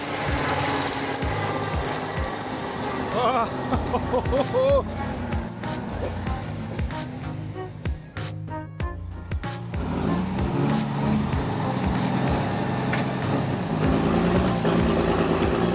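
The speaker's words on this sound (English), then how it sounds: "torque maxed out, the truck surges forward and finally conquers the brutal slope" A logging truck hauling pine logs strains its engine up a slippery, muddy slope, a loud continuous diesel roar with sharp knocking clatter and surging revs, up close and dominating throughout.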